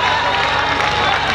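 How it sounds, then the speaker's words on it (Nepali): A comedy show audience in Pokhara breaks into dense applause and cheering, a loud, continuous wash of clapping and shouts with no gaps. "दीपक बज्राचार्यजीको लागि जसले ताली बजाउँदैन त्यसको त भगवान कसम 7 पुस्तासम्म विद्या नष्ट हुन्छ"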